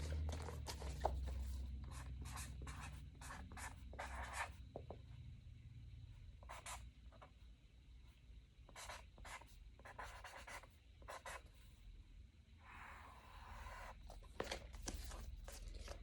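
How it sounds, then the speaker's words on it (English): Pen scratching across paper while Bible verses are written out, a quiet run of short strokes in bursts with brief pauses, close and alone without talk. "I'll write them down before I say them."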